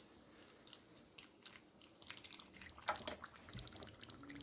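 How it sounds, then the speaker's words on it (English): Beef broth trickles and drips into a canning jar during home canning of taco filling, faint close splashes and gurgles that grow slightly busier toward the end. "Beef broth here. Just pour it in here."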